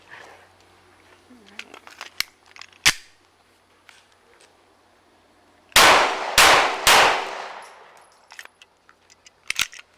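A Taurus G-series pistol fires three loud, close shots in quick succession, each a sharp crack, following scattered quieter handling clicks and brief talk.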